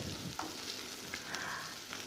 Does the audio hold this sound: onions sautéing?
yes